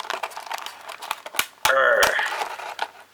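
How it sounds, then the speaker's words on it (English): Scissors snip through a plastic blister pack holding an action figure, giving a close, sharp crinkling crackle and cutting sounds against a quiet room. "So let's free her from her plastic bubble."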